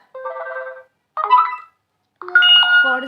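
Three separate chime-like notification tones from a Nokia 3.4 phone, each a short melodic electronic jingle with silence in between, clear and close.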